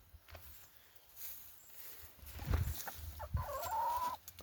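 Free-range farm chickens clucking in a small flock, a few short calls rising over low rustling and shuffling, with one louder, drawn-out cluck near the end.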